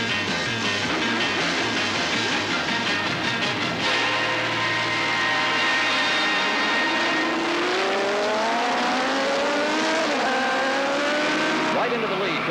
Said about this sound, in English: Into the lead goes Wes Cooley, just ahead of Freddie Spencer and David Aldana